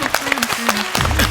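Audience applause for a comedy skit on a Malayalam TV comedy show, a short, steady wash of clapping with tonal sound mixed through it, swelling slightly louder toward the end.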